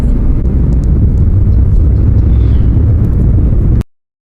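A bus and other traffic rush past on the Tirupati–Madanapalle highway near a flyover, a loud, continuous roar of engine and road noise that ends abruptly near the close.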